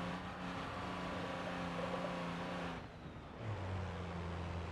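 Diesel truck engine labouring in low gear in BeamNG.drive, a steady droning rumble with a deep tonal hum that briefly dips, then settles lower and louder, alone without speech.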